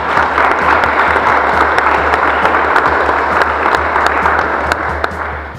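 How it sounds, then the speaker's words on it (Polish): Audience applause at an amateur volleyball tournament in Szczepanowice, steady dense clapping from a crowd held at an even level for several seconds, with no talk over it. "ale wielkie brawa prosimy."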